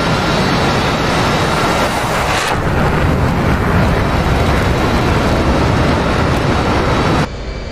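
A jet launching off an aircraft carrier in DCS World, a loud sustained roar and rumble of engine thrust building across the clip before cutting off abruptly near the end.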